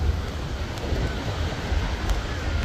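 Strong wind blowing by the sea, a steady loud broadband roar that runs through the whole stretch with no breaks, mixed with a low rumble like surf.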